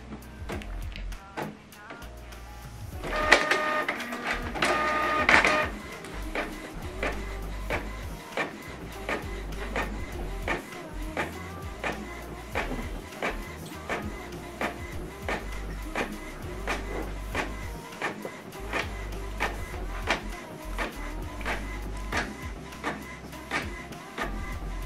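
A Canon or HP printer prints a double-sided document, with a brief louder whir of paper feeding followed by a long run of fast, regular mechanical ticking and rattling that carries on steadily.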